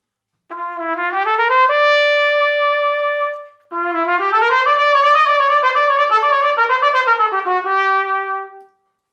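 A solo brass horn plays two sustained melodic phrases with a clear, rich tone, swelling louder as the line climbs and softening as it falls, with a short breath gap between them and no voices.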